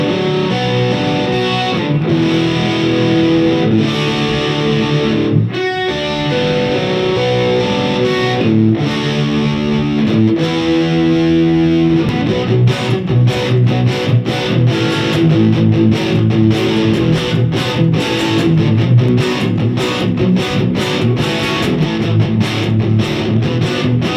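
Distorted electric guitar with treble boosted and bass cut, dialed to an 80s rock tone, playing sustained chords and riffs loudly and continuously, with bursts of picked notes and no voices.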